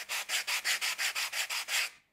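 Fine side of a Perma-Grit sanding block rubbed over foam in about ten even, rhythmic back-and-forth strokes, a close, dry rasping scrape that ends abruptly.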